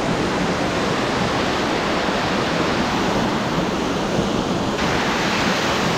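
Mountain waterfall with water crashing into a pool, a loud, dense and unbroken roar that fills the whole stretch with no gaps and no voices.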